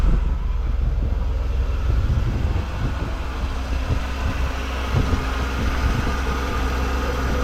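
A Mercedes W124 300E engine idles smoothly, a steady low hum and rumble heard nearby with no one speaking over it.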